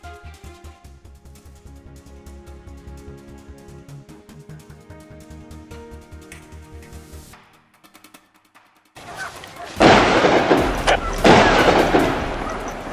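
Gunshots during a wild boar hunt on a mountainside, arriving as loud, dense bursts of firing in the last few seconds after a stretch of steady background music and a brief lull.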